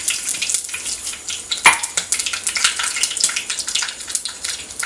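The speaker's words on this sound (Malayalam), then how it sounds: "ഇനി നമുക്ക് കടുക് പൊട്ടിക്കാം കേട്ടോ." Mustard seeds splutter in hot oil while cooking a beetroot dish, a close run of sharp crackles and pops over a sizzling bed, with one loud pop partway through.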